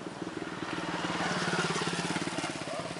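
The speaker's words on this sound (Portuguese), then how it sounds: "Vem pra cá que a moto tá vindo." A motorcycle engine putters rapidly and grows louder as it approaches and passes close by, its rhythmic chugging dominating throughout.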